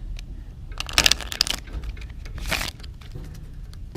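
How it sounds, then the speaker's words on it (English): Playing cards riffle-shuffled a few times in a blackjack card-counting setting, giving close, crisp bursts of flutter and snaps with brief pauses between them. "Alright, I'll shuffle these up a few times."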